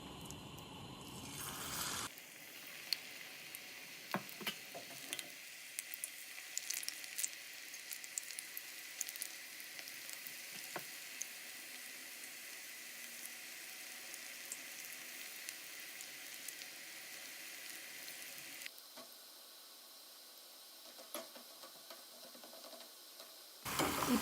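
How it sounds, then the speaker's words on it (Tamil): Small dollops of bonda batter fry in hot oil in a kadai, a steady close sizzling hiss with faint crackles running for most of the stretch before quieting near the end. "இப்போ ஒரு கடாயில் எண்ணெய் ஊற்றி நல்லா காஞ்சிருச்சு. இப்போ நம்ம மிக்ஸ் பண்ணி வச்சுருக்க மாவு இதில் போட்டு எடுத்துடலாம்."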